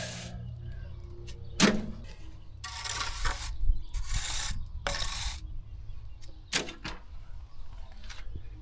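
Rough scraping strokes across fresh render on a wall, roughening the grain after rendering; several loud broadband scrapes of a few seconds each, separated by quieter pauses with faint knocks.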